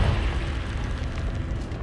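Confringo fire blast spell exploding in Hogwarts Legacy, a dense booming burst that rumbles and fades over about two seconds, loud and close with no talking.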